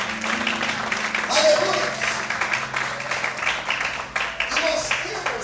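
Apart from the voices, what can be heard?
congregation applauding in church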